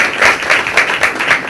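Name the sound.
audience clapping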